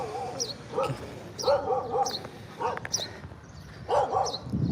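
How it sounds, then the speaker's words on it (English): A dog barks and yips in short bursts amid a murmuring crowd, the barks repeating irregularly and fairly close. "It's a friggin' dog barking over here."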